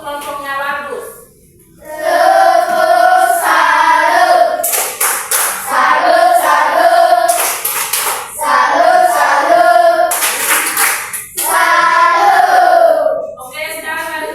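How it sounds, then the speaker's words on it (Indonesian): A fourth-grade class claps a rhythmic patterned cheer for a student group, loud near hand claps in bursts, with children's voices chanting along between them. "tepuk salut untuk kelompoknya Bagus"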